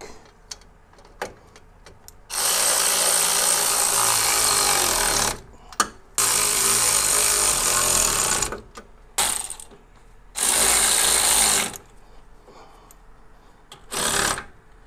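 A power tool ratchets 3/4 inch (19 mm) bolts tight on QA1 front coilovers fitted to a 1986 Monte Carlo SS, in several loud, buzzing bursts of a few seconds each, separated by short pauses.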